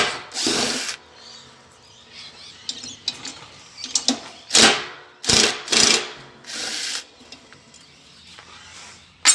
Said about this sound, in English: So we'll take these screws out again.